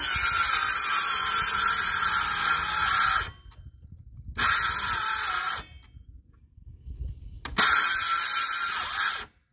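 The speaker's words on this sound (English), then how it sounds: "we're doing the Ryobi skill saw now." A Ryobi circular saw spins up in three separate runs of a few seconds each, with short near-silent gaps between them. The loud, steady motor whine is close and heard with no talking.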